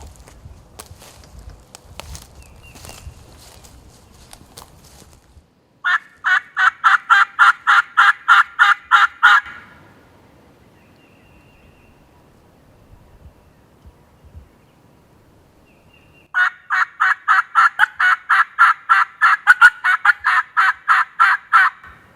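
Two bursts of rapid, rhythmic clucking calls from a wild turkey in brush during hunting season, each lasting a few seconds, with quiet rustling and footsteps between them.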